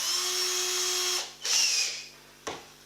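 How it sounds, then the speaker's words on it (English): A small power drill with a 2mm bit whines steadily while boring holes in a sanshin build, then stops, spins up again briefly, and gives a short final burst. "Okay, so 2mm drill bit,"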